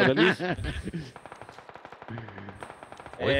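Rapid gunfire bursts from the battle royale game PUBG crackle at moderate distance between stretches of excited talk, with a quick repeating rattle running through the middle.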